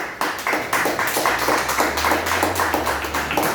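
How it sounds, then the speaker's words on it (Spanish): A church congregation claps together as an offering of praise, a steady dense patter of many hands close by, with no talking. "Le damos una ofrenda de palmas a nuestro Padre."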